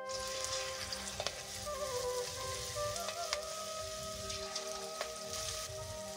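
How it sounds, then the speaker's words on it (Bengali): Marinated chicken pakora fries in hot oil in a kadai, a steady close crackling sizzle with occasional brighter pops and faint clinks, no voices. "এবারে ভাজা হবে"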